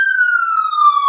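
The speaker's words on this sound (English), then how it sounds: "Sorry, there's a siren behind me." A siren sounds outside as one long, clear, slowly falling wail with no voices over it.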